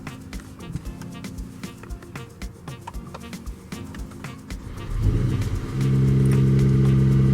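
A Mercedes-Benz AMG GT53 engine starts close by: faint clicks, then a rising crank-and-catch that settles into a loud, steady idle rumble.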